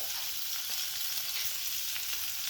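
Onion fries in oil in a wok, giving a dense, continuous crackling sizzle that stays close and even throughout, with no talking over it.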